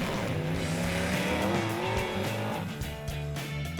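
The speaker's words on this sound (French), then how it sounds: "tous les favoris se livrent à fond déjà, comme la Ford GT40 numéro 214 de Christopher Livingston Price et Timothy H" Historic racing cars, including a Ford GT40, race flat out on a road rally course, their engines roaring loud and close with rising and falling revs throughout, under a continuous dense mechanical din.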